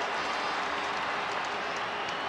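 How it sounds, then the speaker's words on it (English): Crowd applause in the stands at a 2001 All-Ireland hurling semi-final between Tipperary and Wexford, a broad, steady wash of clapping heard from a distance. "Applause all around."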